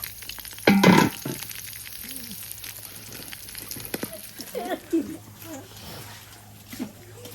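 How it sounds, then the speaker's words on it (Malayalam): Chopped shallots and green chillies fry in oil with a brief loud burst of sizzling early on, then a lighter crackle beneath a voice talking over it. "അപ്പൊ ചെറിയ ഉള്ളി അരിഞ്ഞിട്ട് പച്ചമുളകും എണ്ണയിലൊന്ന് നല്ലോണം ഒന്ന് മൂപ്പിച്ചെടുക്കട്ടെ"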